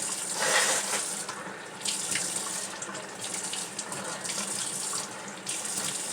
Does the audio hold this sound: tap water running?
yes